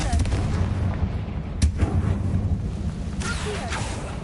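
A Confringo blasting spell in Hogwarts Legacy goes off as a deep booming explosion, with a sharp crack partway through and rumbling bursts continuing after it.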